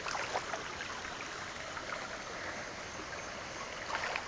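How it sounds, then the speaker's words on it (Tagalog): Small streams flowing through a barangay in Matnog make a steady, close wash of running water, continuous and even for the whole stretch with no voices. "Ito po yung mga sapa na nakikita nyo ngayon sa inyong harapan na mga source ng tubig"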